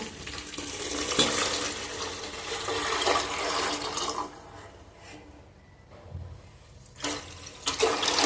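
Water from a tap pours with a steady rush into a cooking pot for boiling rice, loud and close at first, easing off in the middle, then surging again in short splashy bursts.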